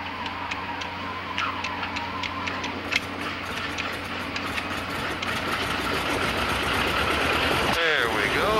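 A Bushmaster airplane's number 1 engine turns over and starts, with a steady rhythmic ticking cranking beat that settles into a continuous mechanical rumble. Engine noise fills the cabin throughout.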